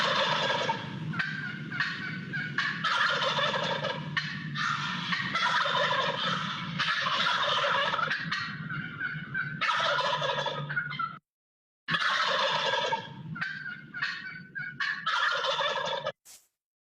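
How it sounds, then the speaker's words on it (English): Wild turkey gobbling repeatedly in loud, rattling bursts through most of the recording, with a short pause near the end before the calls resume; no voices. "That's our turkey. We have wild turkeys here."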